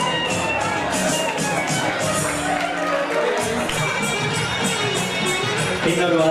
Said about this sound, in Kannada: ಸೊ ಮಹಿಳೆಯರಿಂದ ಜೋರಾದ ಚಪ್ಪಾಳೆ ಬರಲೇಬೇಕು.